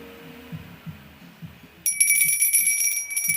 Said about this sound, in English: My bell is this.